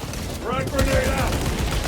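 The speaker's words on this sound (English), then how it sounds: "Frag grenade out!" A frag grenade blast and bursts of gunfire in Warhammer 40K Space Marine 2, a loud, dense battle din that stays heavy for two seconds with a voice barking over it.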